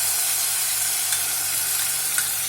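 Ground paste sautéing in hot oil with popped mustard seeds for green peas sundal, a dense, continuous close sizzle with faint occasional crackles.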